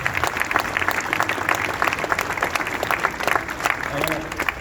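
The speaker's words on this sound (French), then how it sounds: "Je pense qu'on peut même tous s'applaudir," Audience at a health coordination meeting in Guingamp applauding: dense, steady clapping that continues throughout without a break, with some voices mixed in.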